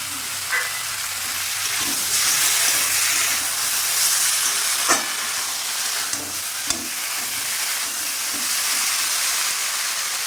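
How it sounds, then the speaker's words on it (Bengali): Cumin, coriander, chilli and ginger paste fry in hot oil, giving a steady close sizzle and steamy hiss with occasional stirring scrapes and clicks. "এর মধ্যে আমি জিরে, ধনে, মরিচ, আদা বাটা দিয়ে দিলাম।"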